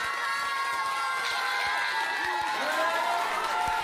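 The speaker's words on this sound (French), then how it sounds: "Un tonnerre d'applaudissements s'il vous plaît" Sustained crowd noise with cheering and scattered clapping from a live audience, even and fairly loud throughout, with musical tones ringing over it.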